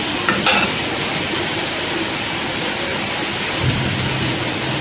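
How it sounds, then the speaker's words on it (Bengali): Chow mein noodles dropped into hot oil with potatoes in a pan, a loud, dense, continuous sizzle and crackle filling the whole stretch, with a stir or clatter near the start and again later. "তেলটা গরম হয়ে গেছে, চাউমিনটা দিয়ে দিয়েছি"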